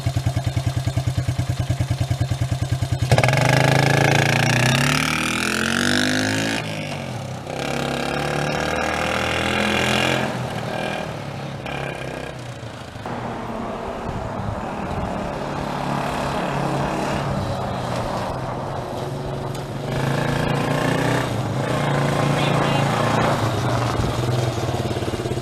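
A 1983 Suzuki ATV engine idles close by, a steady, throaty running note with slight shifts in pitch and a rattly mechanical edge throughout.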